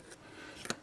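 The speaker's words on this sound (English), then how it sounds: "Cut that. That's the other speaker wire to put it in" Speaker wire inside an Athearn Genesis P42DC model locomotive is cut, giving two quick, quiet snips: a light one at the start and a sharper one near the end.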